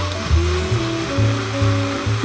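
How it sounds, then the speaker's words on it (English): A blender whirring as it grinds pistachios into a paste, a loud close motor drone with pitch that dips and recovers in regular pulses as the load shifts. "pour into a blender and blend everything until you get a nice paste"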